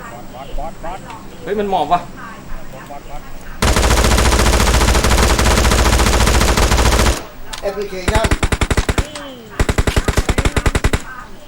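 Video game gunfire: a long unbroken burst of automatic fire, then rapid sharp shots in quick clusters, loud and close, with excited talk around the bursts.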